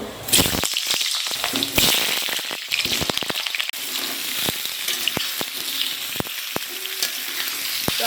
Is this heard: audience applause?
no